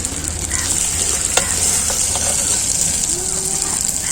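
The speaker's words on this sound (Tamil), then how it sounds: "கத்திரிக்காய் போட்டு நல்லா கிளறி விட்டுறாங்க" Whole brinjal cut into quarters is stirred in a hot pan, giving a loud, continuous sizzle with scraping spoon strokes close by.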